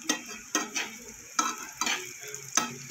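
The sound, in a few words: paneer frying in a pan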